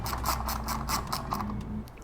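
A ratchet on a 4mm extension clicks rapidly while backing out fairing bolts on an RS 457 motorcycle, a quick close run of rhythmic metallic ticks with no talk.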